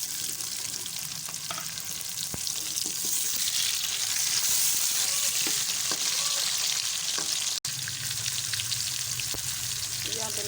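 Tomatoes frying in a pan with onions for a potato and cauliflower curry, a loud continuous sizzle with occasional spoon scrapes and one sharp click, no voices.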